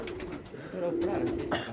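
A pigeon coos softly and close by in a pigeon loft, a low throaty warble running through the moment, with faint background noise and no clear speech over it.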